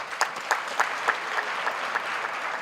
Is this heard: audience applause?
yes